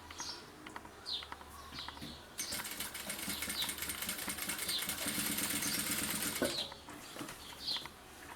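Sewing machine stitching bias binding onto a fabric bag, a steady rapid mechanical whirr running for several seconds after a quieter start with soft handling noises, fairly close.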